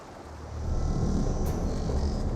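Wind buffets over the open sea with a low rumbling wash of waves, growing louder after the first half second and staying steady, with no voices.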